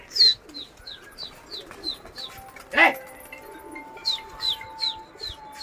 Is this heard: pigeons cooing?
yes